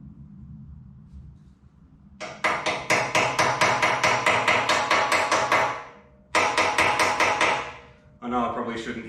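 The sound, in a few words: copper hammer tapping bearing race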